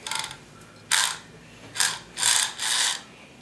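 A Robotix R-2000 Argus toy robot's motor whirs and grinds as its jaws open and close, heard as several loud, buzzing mechanical bursts separated by short pauses, close up with no talk.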